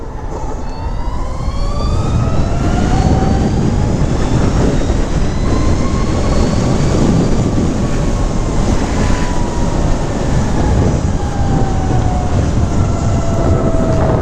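Loud, steady road and wind roar rides under a Harley-Davidson LiveWire electric motorcycle moving through traffic, with faint rising and falling whine tones over the constant rush.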